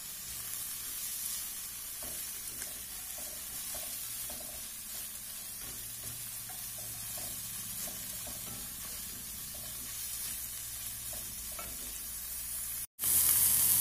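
Mixed vegetables sizzle and crackle steadily as they fry in a pan for fried rice, with a continuous loud hiss and occasional stirring scrapes, ending in a brief louder burst of noise.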